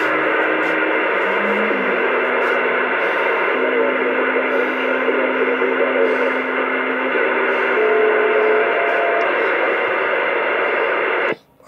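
A Ranger 2970 radio transmits through its stock mic, a steady hissy, compressed over-the-air voice signal with a faint tone carrier, continuous and loud for about eleven seconds before cutting off abruptly.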